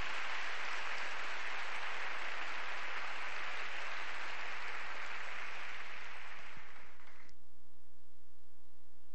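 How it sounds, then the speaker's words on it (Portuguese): Congregation applause during a women's church service, a broad sustained roar of clapping that holds steady and then cuts off abruptly near the end. "Dê um aplauso a Ele por isso."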